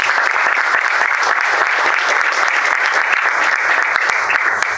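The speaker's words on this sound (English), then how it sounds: "So another round of applause." A large audience at a spiritual talk gives sustained applause, dense steady clapping filling the room at an even level for several seconds, with no voices standing out.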